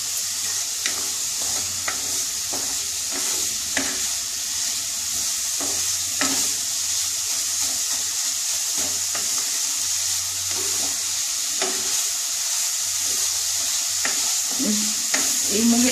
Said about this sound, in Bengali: এটাকে নাড়তে হবে। গুড়টাও গলে যাবে আর নারকল গুড়টা হয়ে যাবে।